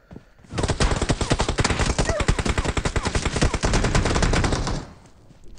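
Gunfire in the mobile battle royale game PUBG Mobile played on an iPad, a loud, sustained burst of rapid automatic shots lasting several seconds before stopping abruptly, with no talk over it.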